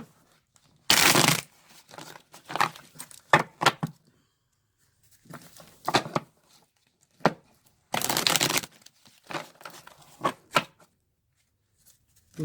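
Tarot cards are shuffled close up in several quick bursts of riffling and sliding, separated by brief quiet pauses.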